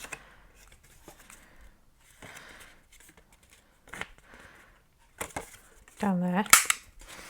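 Scissors cutting scraps from a paper pad in a craft session: a few quiet, scattered snips and paper rustles, then a louder crunchy cut near the end, with soft talk and a faint whistle-like squeak.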